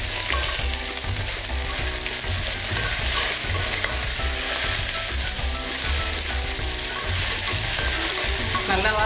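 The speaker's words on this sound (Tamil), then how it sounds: "இந்த பிரிஞ்சி இலை நல்லா வறுந்துருச்சு. வெங்காயம் போட்டுக்கலாம்." Onions and a bay leaf frying in hot oil for nalli kurma, a loud, steady, dense sizzle with stirring scrapes throughout, close and unbroken.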